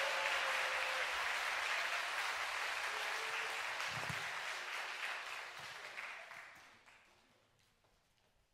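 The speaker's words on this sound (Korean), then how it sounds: "네 분께 다시 한번 뜨거운 박수 보내드리겠습니다" Warm, dense applause from a concert audience after a Valentine's Day musical and opera performance, sustained and full, then gradually fading away toward the end.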